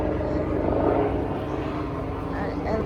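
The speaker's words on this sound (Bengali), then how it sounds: "হেলিকপ্টার যায়।" A helicopter flies overhead above a summer garden in New York, a steady broad engine and rotor drone holding at a moderate level through the whole stretch, with a voice talking over it.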